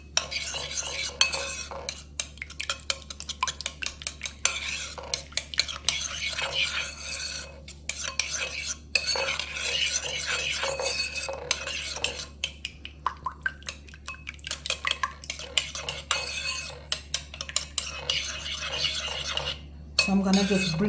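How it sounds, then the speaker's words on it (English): Utensils stirring and mixing a sesame ginger sauce, brisk rhythmic scraping and tapping against the bowl for a long stretch over a low steady hum. "So I'm gonna give this a good mix to combine"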